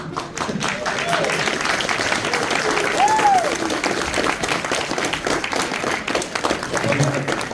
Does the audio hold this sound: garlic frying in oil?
no